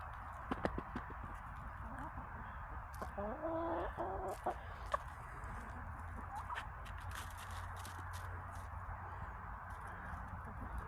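Backyard chickens cluck and murmur softly at a distance, with scattered calls over a steady outdoor background and some quiet movement nearby.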